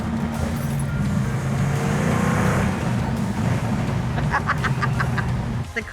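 A 1970 Plymouth Road Runner engine roars hard and steady close by, a dense low rumble that holds level through the whole stretch before easing slightly at the very end.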